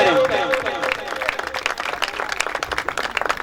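A congregation applauds to welcome a pastor at a sermon gathering: dense, steady clapping from many hands, loud and close, fading slightly toward the end.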